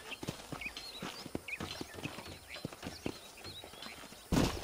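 Horse hooves clip-clop at a steady walking rhythm in the Red Dead Redemption video game, a series of distinct, fairly faint thuds with light ambient sound around them and a short burst of louder noise near the end.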